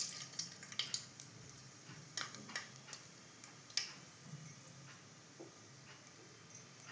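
Mustard seeds spluttering and popping in hot oil for a Karnataka-style ridge gourd curry, a scatter of sharp, irregular crackles and ticks, close and fairly faint over a quiet hiss.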